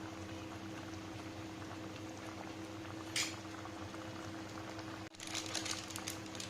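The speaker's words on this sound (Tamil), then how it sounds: "ஃபஸ்ட்டு இப்போ கொதிக்கட்டும் நல்லா." Paneer butter masala gravy simmering in a pan, a steady close bubbling and hissing that runs throughout, with a brief sharp sizzle partway and a slightly louder burst of bubbling near the end.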